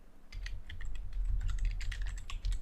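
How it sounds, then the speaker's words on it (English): Fingers tap quickly on a computer keyboard, giving a close, continuous patter of light key clicks over a low background hum, with no talking. "One way is we can directly type the author name,"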